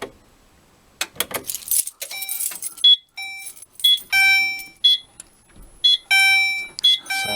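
A building fire alarm system under test sounds off with loud, repeated electronic tones and chimes in rapid pulsing bursts after a short jangle of keys, close by and loud, with no speech.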